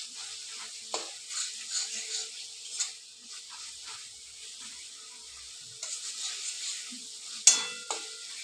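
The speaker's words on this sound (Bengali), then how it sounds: "এবার মশলাটাকে আমি ভালো করে কষিয়ে নেবো যতক্ষণ না এর থেকে তেল ছাড়ছে।" Spice paste stir-fried in oil for Bengali pabda fish curry, soft scraping strokes and a faint sizzle recurring in short bursts, with one sharper clink near the end, quiet and close.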